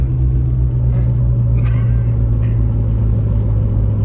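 A 1993 BMW E36 325i engine running steadily right after starting, a loud, constant low rumble with no break throughout, and a few faint higher clicks and squeaks on top.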